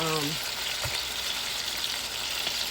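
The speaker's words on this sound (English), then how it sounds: "I have my ground beef cooking" Ground beef frying in a pan on a stove while it is cooked for homestyle spaghetti, giving a steady broadband sizzle that stays even throughout, with a brief low hum at the start.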